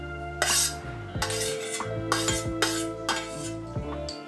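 Roasted onion and coriander going into a metal cooking pot, with close clinks and scrapes of a utensil against the vessel and a low steady background hum, no talking.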